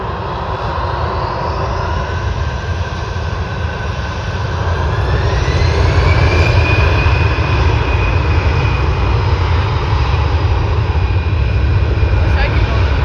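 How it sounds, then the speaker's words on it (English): An Air Canada A320 airliner at Vancouver International Airport gives a loud, steady jet engine roar close by that swells and rises in pitch midway, then holds a sustained whine. "Air Canada A320"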